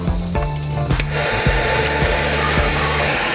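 A torch preheats a pipe for hard soldering aboard a sailboat, making a loud, steady, close roaring hiss that runs unbroken, with a low hum and a few soft knocks beneath it and no speech.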